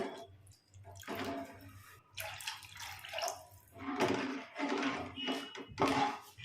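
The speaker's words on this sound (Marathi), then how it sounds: "आपल्याला जेवढा रस्सा हवा आहे त्यानुसार पाणी टाकून घेऊयात" Water is poured into a pot of river fish curry, making a steady splashing pour with rising and falling surges, close and moderately loud.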